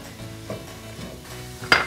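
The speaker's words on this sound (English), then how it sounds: "I'm gonna turn this up to medium heat, get it going. And we want to saute this probably about 10 minutes." Vegetables for a vegetarian lasagna sauce saute gently in a pan over medium heat, a faint steady sizzle with light stirring and one bright clink of a utensil near the end.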